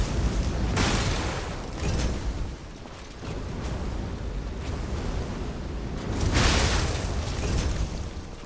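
A blast in the action game Lies of P, rendered as a loud, dense roaring rumble that swells twice, fading briefly around the middle before a second heavy burst, with no talk.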